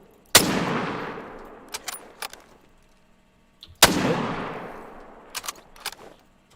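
Two loud, close gunshots during a target shooting competition at a hunting lodge, spaced a few seconds apart, each with a long echoing decay, followed by faint metallic clicks and small knocks.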